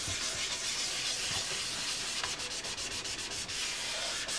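Steady broadband abrasive rubbing of sandpaper over painted, clear-coated motorcycle fairing panels from a track bike, continuous and close with slight rhythmic strokes, no talking.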